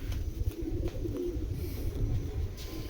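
Low, breathy cooing from a racing pigeon hen of the H-Bird line, repeated softly in a steady murmur close by, with no talk over it.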